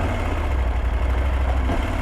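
The 2023 Husqvarna Norden 901, an 889cc parallel-twin adventure motorcycle, idles with a steady, close, low-pitched engine rumble and no other sound.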